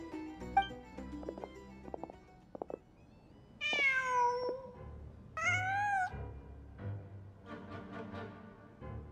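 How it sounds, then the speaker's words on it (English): A cat meows in Genshin Impact, several clear, drawn-out, rising and falling meows from close by, following a few soft clicks and taps, with faint game ambience underneath and no talking. "Just a cat."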